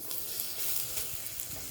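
Spring onion coated in batter sizzling steadily in hot oil, a dense close crackle throughout with no voices.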